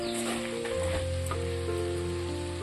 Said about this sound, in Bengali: মশলাটা ভালো করে কষিয়ে নেওয়ার পর আমি এর মধ্যে দিয়ে দেব মাটনের চর্বিগুলো